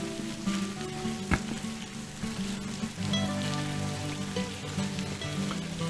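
Rainwater streams off rock in a rural Thai rainforest, a steady close patter and splash of running water with a few sharper drips, and no voices.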